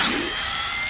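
A screwdriver, seemingly powered, whirs loud and close in one short continuous burst as a device is taken apart, with no talk.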